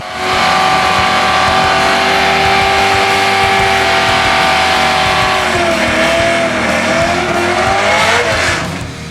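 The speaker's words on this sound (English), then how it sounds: "A beautiful Corvette right there." A Corvette races down the Famoso drag strip with a loud, close engine roar and a hint of tire squeal, the pitch climbing as it accelerates before easing off at the end.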